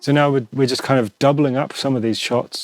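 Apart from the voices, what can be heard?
None of the usual background noises is heard.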